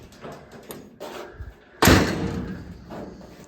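The restored door of a 1948 Chevy COE truck is worked with light clicks and shuffling, then swung shut with one solid, close slam that fades into a short rumbling tail.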